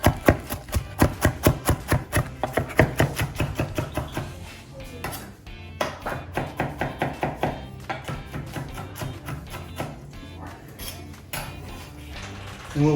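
A knife chops diced onion on a cutting board in fast, even bursts of sharp knocks, pausing briefly and then starting again, close and loud, with no talking.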